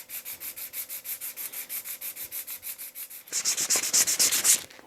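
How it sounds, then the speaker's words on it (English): A wooden fishing lure is sanded smooth by hand, with quick rhythmic back-and-forth rasping strokes that grow louder and harsher toward the end. "I'll get back to you guys when I'm done sanding this stuff all smooth again."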